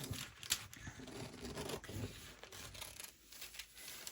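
Scissors cutting fabric for a small apron for a teddy bear, quiet close snips and scraping blade sounds in a soft, irregular run with no talking.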